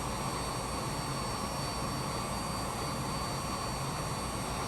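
Jet aircraft engines hold a steady, broad roar with a high whine, heard from inside the aircraft at an even level throughout.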